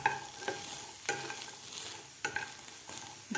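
Peas for matar kachori stir-fry in a pan with a soft, steady sizzle. A spoon scrapes and stirs in a few distinct strokes, close and quiet, with no talking.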